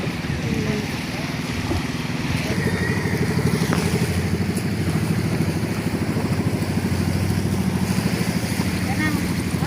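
Motorcycle engine running steadily nearby with a continuous throbbing drone, accompanied by wind noise and people talking over it.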